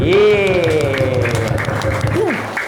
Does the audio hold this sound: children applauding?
yes